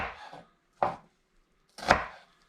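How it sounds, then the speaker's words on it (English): Three separate knife chops through white onion quarters on a cutting board, crisp close thuds spaced about a second apart, with no voices. "what I'm going to do with my onions is I'm going to cut them in half"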